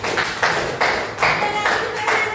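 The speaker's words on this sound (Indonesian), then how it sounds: "Tepuk tangan Fauzan Melati." A group of schoolchildren claps together in a steady rhythmic beat in a classroom, a burst roughly every half second, fairly close.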